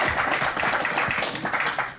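Audience clapping at a prize-giving as a trophy is handed to a winner, a short burst of applause from a crowd throughout.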